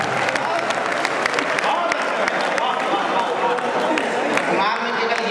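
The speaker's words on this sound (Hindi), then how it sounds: "जोरदार तालियां बजाओ" A crowd at a 2009 all-India Hindi poetry gathering (kavi sammelan) bursts into dense, sustained applause, loud and steady throughout with many overlapping hand claps and a little crowd noise.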